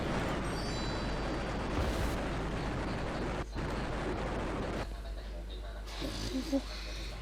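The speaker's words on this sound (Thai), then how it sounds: "ทำไมมันยิงถี่จังวะ" Rapid gunfire from the Roblox shooter Neo Warfare X, a dense, continuous roar of overlapping shots that stays loud for about five seconds, then thins into scattered bursts and quieter clatter near the end.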